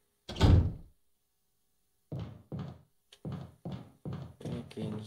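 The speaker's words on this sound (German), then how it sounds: "Gehen hier durch die Tür." Door in a Resident Evil video game: one heavy thud, then after a pause a rapid series of about seven clunking knocks and creaks as the door works open, close and distinct with no talk.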